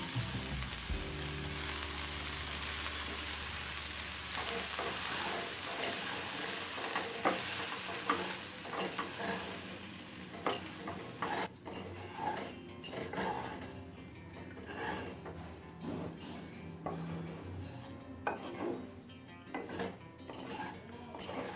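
Oats tipped into a pan of softened, fried vegetables for oats pulao, with steady sizzling and clinking stirring of utensil against pan, continuous and close, no talking.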